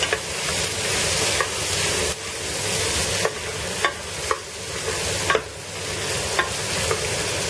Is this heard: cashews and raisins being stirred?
yes